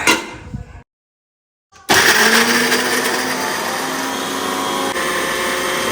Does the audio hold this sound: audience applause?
no